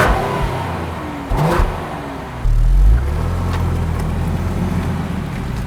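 A 2020 Ford Explorer ST's twin-turbo engine revs in a few rising surges, the mid-pitched drone swelling, then settling back to a steady idle hum, loud and close with no talk.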